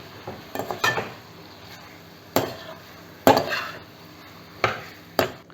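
Chicken curry with ginger garlic paste is stirred in a pot, giving a few sharp clanks and scrapes of a spoon against the metal, spaced irregularly over a soft simmering background.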